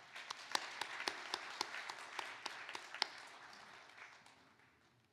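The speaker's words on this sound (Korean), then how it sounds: "박수로 우리 환영하겠습니다." Applause greeting a provincial vice-governor at a 2022 Easter union church service in Andong, South Korea, heard as quiet, scattered clapping from a congregation with sharp individual claps standing out at first, then thinning and fading away.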